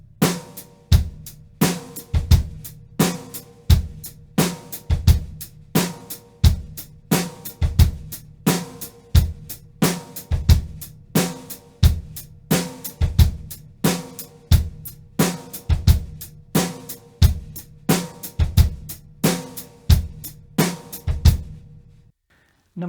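A drum kit works through a paradiddle pyramid pattern on bass drum and snare, a steady, even stream of sharp, close hits with regular accents that runs for about twenty seconds before stopping abruptly.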